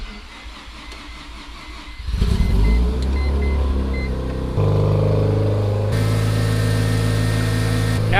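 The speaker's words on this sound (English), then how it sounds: "Now see if she starts up." A Mazda RX-7 FD rotary engine cranks briefly, catches and fires up loud and close, then settles into a rough, buzzing idle that steps up in pitch as it revs higher.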